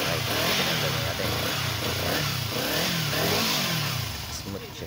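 Kawasaki Z300 motorcycle engine running just after an oil change with Petron Sprint 4T oil, a steady close-up idle with light rhythmic throttle swells, loud and continuous throughout.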